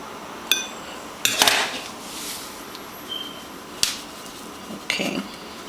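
Seasoned pork chops are flipped in a pan, giving a few scattered metallic clanks and scrapes of a utensil against the cookware over a faint background hiss, close and sparse, with no talking.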